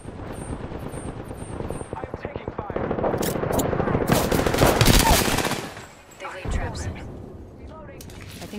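Rapid bursts of automatic gunfire from a shooter video game, dense and loud through most of the stretch, with helicopter-like rumble and a brief lull near the end before firing resumes.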